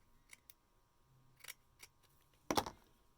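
Scissors snip through mesh ribbon in a quiet room, a few faint clicks and rustles leading up to one louder, sharp cut near the end.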